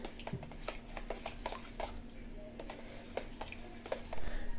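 Set curd (homemade yogurt) being mixed in a bowl: soft, quiet, repeated clicks and scrapes of a spoon against the dish, with faint wet squishing, close and gentle.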